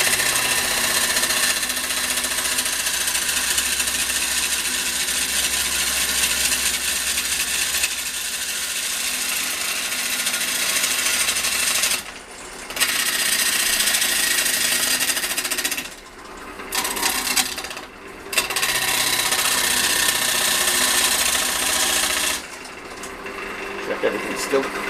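A wood lathe spins a large balanced outboard turning, giving a loud, continuous, harsh grinding whir at close range that drops out briefly a few times and then resumes.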